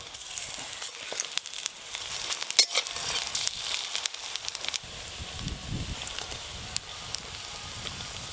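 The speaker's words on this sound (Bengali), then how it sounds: "এইগুলোও ভাজা হয়ে গেল, তুলে নেব এবার।" Drumstick flower fritters frying in hot oil give a steady, dense sizzle with occasional louder crackles and pops, close and continuous throughout, with no voices.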